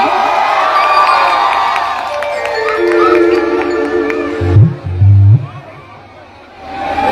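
Crowd at a Magahi stage show cheering and clapping in a steady roar over tonal music, broken near the end by a couple of loud low thumps before fading.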